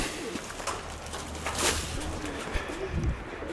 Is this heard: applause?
no